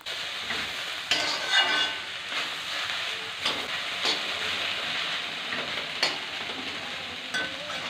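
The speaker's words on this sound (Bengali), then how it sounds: "সর্ষে বাটাটা দিয়ে এখন আবার একটু ভালো করে মিশিয়ে নেব সব কিছু" Mustard paste is stirred into a banana stem curry in a pan, giving a steady close sizzle with scraping stirs and occasional sharp clicks throughout.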